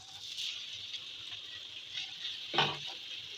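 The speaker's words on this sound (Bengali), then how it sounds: "তেল দিয়ে দিচ্ছি এবার। এখন দিয়ে দেবো পেঁয়াজগুলো।" Onions frying in hot oil in a pan for a fish roe dish, a soft steady sizzle with a brief louder crackle as more is stirred or added.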